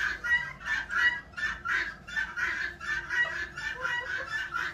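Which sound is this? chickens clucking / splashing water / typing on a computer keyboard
chickens clucking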